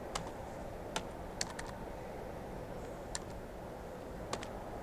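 Computer keyboard keys tapped while coding a C string-copy program, a few sparse, sharp clicks spread over a steady low background hum, with no talking.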